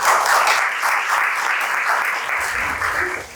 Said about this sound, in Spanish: a quienes les pido un fuerte aplauso,